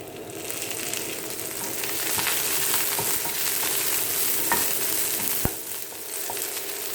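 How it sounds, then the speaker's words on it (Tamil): Adamant creeper (pirandai) frying in oil in a pan gives a steady, close sizzle with stirring scrapes and a sharp clack near the end. "இன்னும் கொஞ்சம் எண்ணெய் விட்டுக்கலாம். இது பொரியிற அளவுக்கு."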